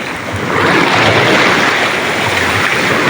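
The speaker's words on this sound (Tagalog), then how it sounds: "Nalaki na po yung alon" Sea waves wash and roar loudly and steadily on a beach where people have been net fishing and swimming, a broad continuous surf noise with wind buffeting the microphone and no talk.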